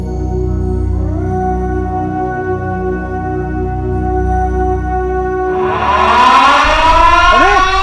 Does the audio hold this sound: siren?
yes